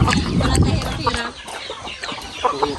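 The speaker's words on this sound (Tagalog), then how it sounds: "Ayan na ang manok ni JJ." Native chickens cluck and squawk up close on a rural farm in Mindoro, loud and continuous over faint background voices.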